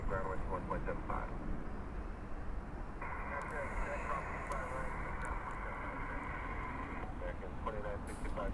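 An airplane at Los Angeles International Airport rumbles steadily in the background, a broad continuous engine roar under radio chatter and someone talking nearby.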